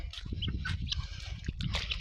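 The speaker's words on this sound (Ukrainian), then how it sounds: "Качурака який." A drake duck gives a few quick, raspy quacks close by in a village yard near puddles, with splashing and scuffling around it.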